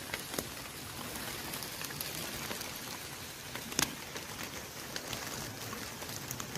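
Steady rain falls on the Mount Gede hiking trail via Putri, a dense, soft hiss of drops with a few sharper nearby splats and taps. No voices are heard.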